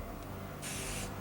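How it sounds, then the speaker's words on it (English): A short burst of mold release spray hisses onto a urethane casting mold, a steady aerosol hiss lasting about half a second over faint room noise. "We're gonna spray the mold with release."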